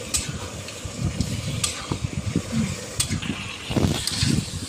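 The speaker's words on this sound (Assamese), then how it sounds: "পোলাওখিনি লৰাই আছে।" Pulao being stirred in a pan with chicken and masala, a steady scraping and shuffling of rice against metal with soft sizzling underneath, repeated stirring strokes at close range.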